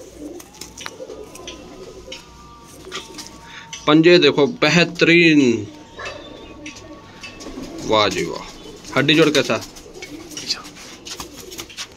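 Missey Jaildar pigeons give soft, low coos beneath someone speaking in Hindi, who talks over the birds in bursts, with quiet gaps where the cooing is heard more clearly.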